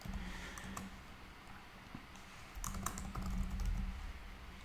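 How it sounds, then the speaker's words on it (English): Steady typing on a computer keyboard while coding a web app, with quiet rapid key clicks in irregular bursts heard close, alone with no talking. "typing in all these complex characters, curly braces, non-curly braces"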